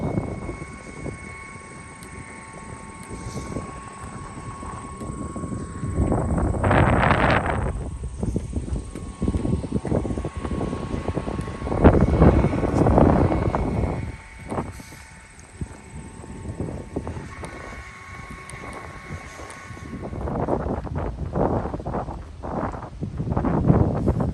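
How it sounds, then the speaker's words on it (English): Strong gusts of wind buffet the microphone on a North Country Trail thru-hike, a loud, rumbling roar that surges and fades in waves throughout, with no speech over it. "That wind, y'all."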